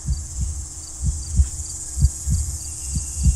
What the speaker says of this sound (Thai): หัวใจเต้นแรง